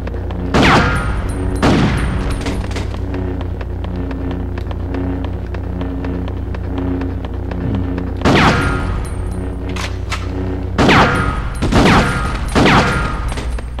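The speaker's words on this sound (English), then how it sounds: "I'm just shooting with the shotgun." A shotgun fires in the PS2 game Ghost in the Shell: several loud, sharp blasts, two early and a cluster of three or four later, each with a short booming tail over a steady low hum.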